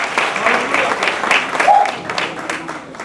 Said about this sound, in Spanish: démosle un aplauso al Señor por la vida del Pastor John Lee